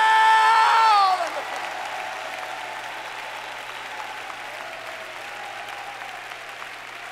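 A camp meeting crowd claps and shouts; a loud voiced shout opens the moment, then cuts off and leaves sustained applause with scattered voices that carries on steadily at a softer level.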